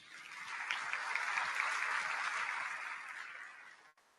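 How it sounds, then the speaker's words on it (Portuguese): An audience at a congress applauds to welcome a speaker. The dense, steady clapping lasts about four seconds, then tapers and stops abruptly. "Vamos receber então com aplausos Rafael Siqueira."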